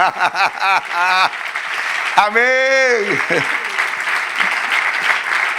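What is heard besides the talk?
church congregation applause for the Lord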